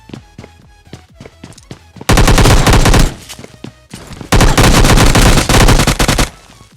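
Rapid automatic gunfire in the mobile battle royale game PUBG Lite, with two long loud bursts broken by quieter stretches of lighter shots and game sounds.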